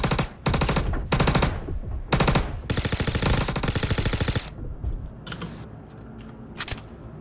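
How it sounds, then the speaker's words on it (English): Rapid SMG bursts in the game Star Citizen, several loud stuttering volleys of automatic fire separated by short pauses, with one long sustained burst before quieter scattered shots. "This SMG has some unbelievable recoil."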